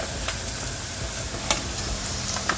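Paneer frying in oil in a pan: a continuous close sizzle and crackle, with a few light clicks and stirring taps scattered through it.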